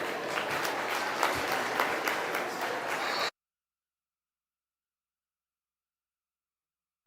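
A crowd at a market swine quality judging at the North Idaho State Fair gives a round of applause for about three seconds, steady clapping that cuts off abruptly into silence.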